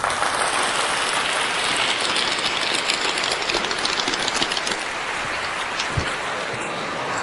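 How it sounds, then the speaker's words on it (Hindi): A crowd applauds a job candidate from the sales department. The clapping is a thick, continuous wash that stays steady and fairly loud throughout, with no break. "तालियां बजाइए"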